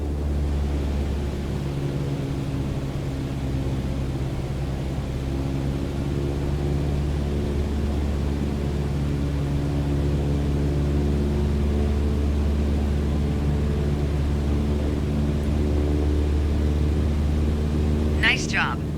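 A propeller airplane engine in Microsoft Flight Simulator drones steadily at cruise throttle, a constant low hum with a voice talking over it.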